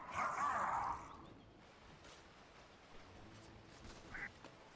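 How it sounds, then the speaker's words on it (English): A quack sound effect from the Dota 2 video game, heard as one loud burst at the start of a match between B8 and Chicken Fighters, followed by quieter game ambience and a faint short chirp. "Every time you hear that quacking sound, Theo just trying to keep his cool"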